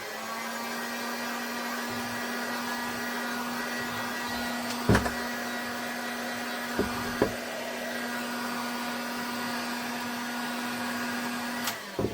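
A heat gun runs as a steady, continuous whirring blow while it warms the heel counter of a shoe under repair, with a few faint knocks and taps partway through.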